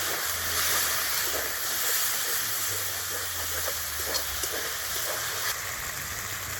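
Spice paste with turmeric and a splash of water sizzles steadily in a pan while cooking goat intestine gravy, a broad continuous hiss throughout with no talking.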